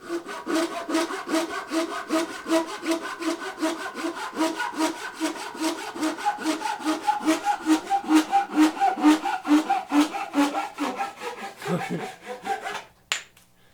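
A hand saw cuts through wood in a steady, rhythmic run of close, loud push-and-pull strokes that speed up slightly toward the end, then stop with a final knock.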